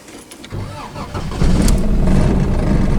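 A damaged Toyota engine runs rough and refuses to idle, its close, uneven rumble sputtering and then surging louder and steadier about halfway through.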